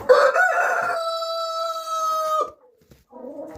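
A rooster crows loudly and close by in a New Hampshire chicken flock on a morning, one long sustained call that breaks off, followed by softer clucking.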